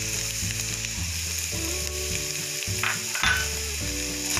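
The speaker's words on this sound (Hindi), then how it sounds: "बहुत देर तक तो नहीं पकाना है आलू को, लेकिन पकाना है" Chopped potatoes fry in a pan with a spice paste while an eggless maida omelette is being made, giving a steady, close sizzle with occasional stirring scrapes.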